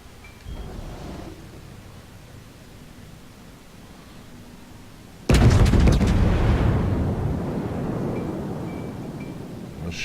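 A battleship's main guns fire in World of Warships: after a quiet stretch a sudden loud boom erupts at once into a thunderous, rumbling salvo that rolls on and slowly fades while still heavy.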